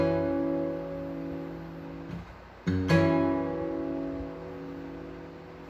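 A fingerpicked guitar playing part of a solo arrangement, with thumb and fingers working together. Ringing notes sustain, briefly drop out, then are struck again and ring on, played alone at moderate volume.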